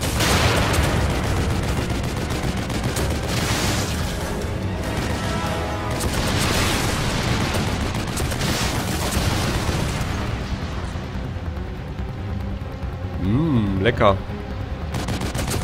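Rapid machine-gun fire rattles continuously in the survival-horror game The Evil Within, dense and loud through most of the stretch, with a brief spoken word over it.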